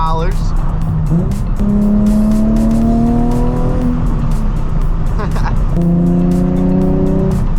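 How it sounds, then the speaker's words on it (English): A 2007 Nissan 350Z HR driven on a morning commute, its engine droning loud and close inside the cabin with rising revs through gear changes, while someone talks over it. "We're back here in my 2007 Nissan 350z HR. And we're on our way to work."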